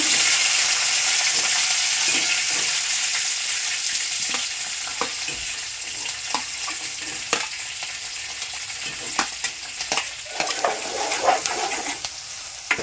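Chillies and onions fry in a pan for egg curry in a village kitchen, giving a bright, steady sizzle that fades slightly over time, broken by intermittent scraping and stirring clicks.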